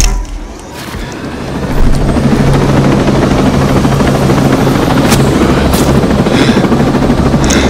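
Helicopter in the video game Ghost Recon Breakpoint during co-op combat, a loud continuous rotor roar that swells in and holds steady, with occasional sharp impacts over it.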